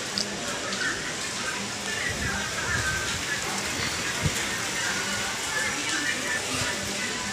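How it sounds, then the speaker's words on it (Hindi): Heavy rain pours steadily on a rainy Karva Chauth night, a dense, continuous hiss of drops on surfaces with faint thumps and background voices underneath throughout. "देखो ये तेज बारिश है, इसमें कहाँ चांद दिखेगा क्या?"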